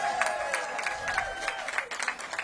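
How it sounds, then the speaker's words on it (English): Faint, patchy clapping from a modest crowd at a library ribbon-cutting ceremony, moderately distant. Voices talk over it the whole time. "Give them a big round of applause."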